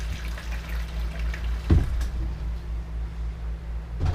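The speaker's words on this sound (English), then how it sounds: "I have filled the one to wash to about half full." Water running into a half-filled laundry wash tub at a boondocking campsite, a steady low rushing fill with a brief splashy surge partway through, close and continuous.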